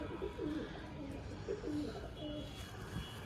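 Several soft, throaty coos from a Madras pigeon repeat at a steady pace, close by, over a low rumbling background.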